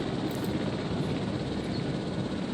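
Steady rotor-and-engine drone of an ACU helicopter in the video game Jurassic World Evolution, a continuous broadband whir held at even loudness throughout, with no voices.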